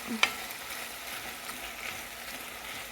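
Small round breakfast sausage patties sizzle in a pan for sausage gravy, a soft steady frying hiss with a sharp clink of a utensil against the pan early on.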